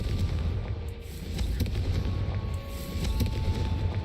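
A Confringo blast spell explodes in the video game Hogwarts Legacy, a dense, rumbling burst of fiery booms and crackles that swells and rolls steadily for several seconds with no voices.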